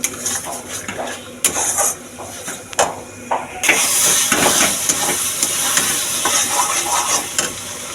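A paste of ground poppy seed, melon seed, cashews and nuts stirred and fried in a pan: loud scraping and clatter from the spoon against metal over a sizzle that swells into a dense, steady frying hiss.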